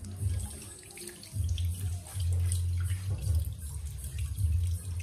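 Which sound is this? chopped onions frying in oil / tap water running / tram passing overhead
tap water running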